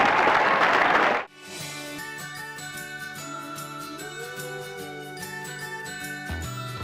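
A short burst of loud applause welcomes a guest, former Member of Parliament J P Aggarwal, to a political interview show. It stops after about a second and a bright tinkling musical jingle takes over.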